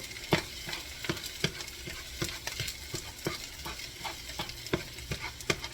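Egg being scrambled on a hot hibachi griddle next to fried rice, a steady sizzle punctuated by repeated scraping and tapping strokes of a spatula, close and without voices.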